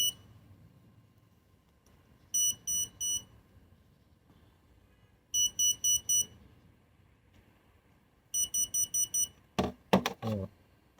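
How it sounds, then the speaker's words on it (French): Automatic front trunk struts being programmed give off three separate groups of rapid high electronic beeps, four to five beeps each, over quiet room noise, followed by a couple of sharp clunks near the end. "Normalement, on devrait entendre un premier bip."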